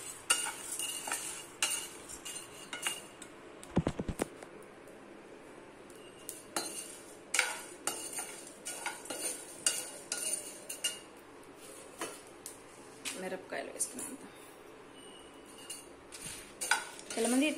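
A metal spoon scrapes and clinks against a pan while cumin seeds are stirred for rasam powder, giving irregular, close taps and scrapes over a faint sizzle, with a brief voice partway through.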